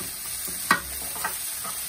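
Chicken pieces browning in a pan with onion give a soft continuous sizzle, broken by a sharp utensil clink and a faint second scrape.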